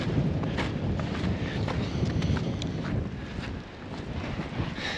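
Steady wind rushes and buffets across an open outdoor spot in winter, a broad continuous roar with gusty microphone rumble, no voices.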